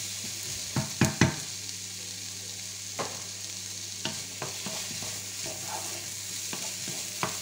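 Onions and garlic sauté in a pan for a beef bourguignon, a steady close sizzle broken by a few sharp utensil scrapes and taps as the mix is stirred.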